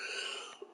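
A single cough from someone with a chest cold, short and fairly loud at the very end after a stretch of quiet room noise.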